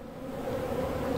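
Honey bees buzz around a hive during July beekeeping in Newfoundland, a close, steady droning hum that swells slightly over a short stretch.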